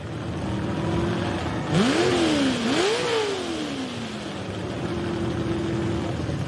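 A big pulling tractor engine at a tractor pull roars up, its pitch climbing and dipping through a couple of hard revs before settling back to a steady drone.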